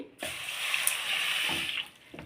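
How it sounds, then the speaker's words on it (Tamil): A tumbler of water pours into sugar in a cooking pan, a steady splashing gush that starts abruptly, holds close and clear, then tapers off near the end. "இப்போ இதுக்கு ஒரு டம்ளர் தண்ணி ஊற்றி"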